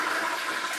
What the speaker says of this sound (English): Let's try another flush here.